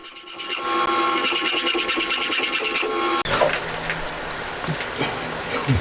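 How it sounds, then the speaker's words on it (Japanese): Rapid rhythmic rasping strokes of a hand saw cutting metal stock for a homemade camshaft, steady and close, then giving way to scraping and clattering handling noises. "最後はノコギリでギコギコします。"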